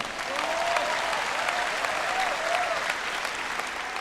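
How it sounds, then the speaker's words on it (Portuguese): An audience applauds at a Joyce Meyer sermon, steady moderate clapping that holds evenly for a few seconds, with no speech over it. "Você não sabe se deve bater palmas para isso ou não?"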